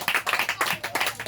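A church congregation claps in acclaim during an evening service, a brisk run of dense, roughly rhythmic handclaps, close and loud, with no voices over it.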